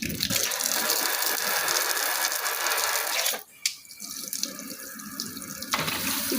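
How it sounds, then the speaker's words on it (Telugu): Water gushes from a 4-in-1 kitchen sink tap into a black sink, a loud steady hiss that briefly cuts out with a click of the mode switch, then resumes in a different spray pattern. "4 సైడ్ ఆఫ్ వాటర్ వస్తుంది."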